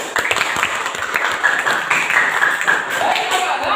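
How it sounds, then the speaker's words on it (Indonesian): An audience of schoolchildren claps in a dense, continuous burst of applause, close and fairly loud, with voices mixed in. "Berikan tepukan yang gemuruh."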